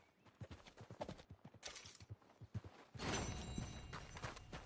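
A horse walking in Red Dead Redemption 2, faint irregular hoof clip-clops, followed by a louder steady rushing sound over the last second and a half.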